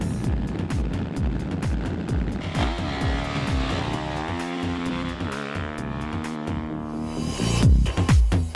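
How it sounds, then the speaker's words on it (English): A Honda CRF 450 motorcycle at full throttle in a desert race, its engine screaming loudly and rising and falling in pitch through gear changes as it passes close by, with a sharp burst near the end. "That CRF 450 sounds fantastic."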